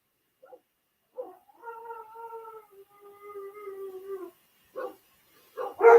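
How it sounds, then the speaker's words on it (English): A dog whimpers and howls outdoors in a few drawn-out, wavering cries with short yips between them, moderately close and alone with no talk. "One of my dogs outside. She won't come in."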